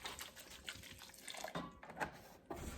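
Water is poured into a recycled plastic milk jug, giving a soft, faint trickling and splashing. The sound is uneven and stays quiet, with no voices over it.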